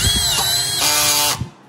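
An electric screwdriver with an OMRON trigger whirs loudly at close range, its motor pitch shifting partway through before winding down and stopping.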